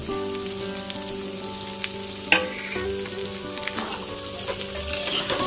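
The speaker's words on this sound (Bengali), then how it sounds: "এবার ভেজে রাখা বেগুনগুলো আমি দিয়ে দেব" Fried eggplant pieces go into a pan of cooked-down spice paste for a mustard-oil fish curry with small mourola fish, sizzling and frying steadily throughout with a sharp clatter of the pieces landing partway in; no one speaks.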